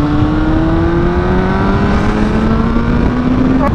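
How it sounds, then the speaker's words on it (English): A Suzuki DRZ motorcycle fitted with an aftermarket exhaust pipe revs loud and steady nearby, its engine pitch climbing smoothly as it pulls, with no talk over it. "My bike sounds a lot better with that pipe."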